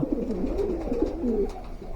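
Caged pigeons coo steadily in low, rolling calls, several birds overlapping nearby for the whole stretch, with no one talking.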